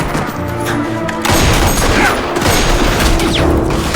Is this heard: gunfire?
yes